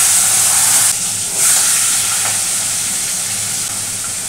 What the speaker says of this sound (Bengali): দেখো আমি মাছের মাথাটাকে ভেজে নিচ্ছি